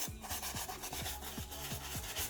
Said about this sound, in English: So I'm not using a lot of polish, so just keep polishing it.